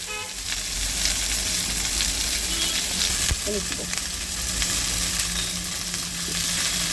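Bottle gourd with softened onion, salt and turmeric for a Bengali-style fish curry sizzles in a pan, a loud, continuous frying crackle with stirring scrapes throughout.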